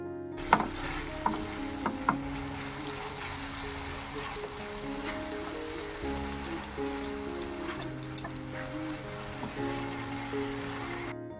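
Masala with salt is sautéed for doi katla, a Bengali fish curry with yogurt, giving a steady low sizzle with occasional scraping stirs of a spoon in the pan, continuous and moderately quiet.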